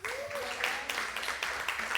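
A church congregation breaks into applause during a Sunday service, a steady wash of clapping from the crowd with a voice heard over it.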